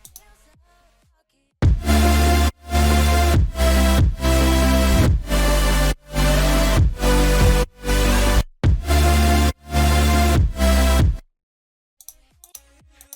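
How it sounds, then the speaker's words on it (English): A sidechained future bass synth chord pulses in a repeating pattern, cutting to silence on each kick and swelling back up in volume before the next hit, loud and alone for about ten seconds. "So when the kick hits there's no volume and it's slowly fading in"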